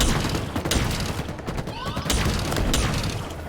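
Dense, loud gunfire and explosions from a Halo Infinite match, with continuous overlapping shots and blasts over busy game noise.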